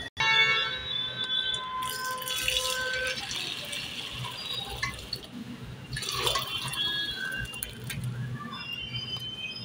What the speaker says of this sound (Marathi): आता यातलं पाणी वेगळं करून घेऊया।